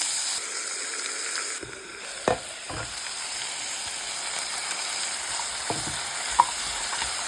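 Goat meat fries in a pan with a constant hissing sizzle, punctuated by occasional scraping stirs and faint clinks of a utensil, heard close and without voices.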